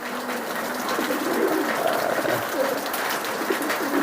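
Pigeons at a market selling racer and Budapest pigeons coo in a busy, crowded setting, their soft low calls repeating steadily through constant background chatter and bustle.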